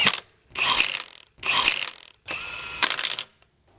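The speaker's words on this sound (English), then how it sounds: "Take our 17mm socket with our wheel bolt, thread these all in, and then our wheel lock key with the bolt as well." Ratcheting 17mm socket threading wheel bolts and a wheel lock key onto the rear hub of a 2022-present VW Mk8 Golf R, in three close, loud bursts of rapid clicking separated by brief pauses.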